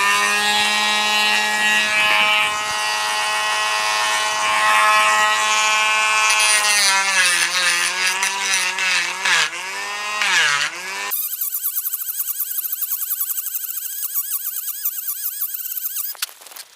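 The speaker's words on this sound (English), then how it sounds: "I'm just using a Dremel tool to remove some material." Dremel rotary tool grinding the nut slots on a 1993 Fender Squier Stratocaster, a loud high-pitched whine that shifts and bends in pitch as it bites, then settles into a steady shrill buzz.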